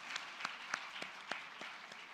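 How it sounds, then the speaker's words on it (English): Faint scattered claps from an audience at a chartered accountants' international conference, about seven separate hand claps spaced at a loose, regular pace over a quiet room hush. "Can we have a big round of applause for all of us?"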